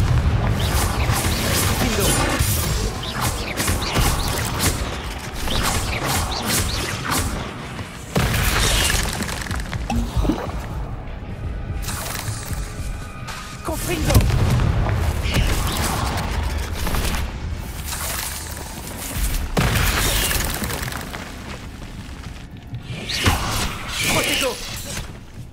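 Confringo fire-blast spell cast in the video game Hogwarts Legacy: repeated loud booming bursts and shattering crashes hit every few seconds over a dense, continuous bed of game combat noise, with a voice faintly present underneath.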